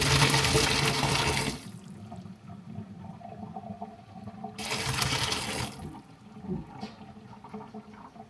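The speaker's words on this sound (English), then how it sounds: "I have the colander in the sink just to catch anything that comes out with it" Cooking liquid from a pot of potatoes pours into a colander in a kitchen sink, a loud rushing splash that stops, then a second pour and a brief splash, with no talking.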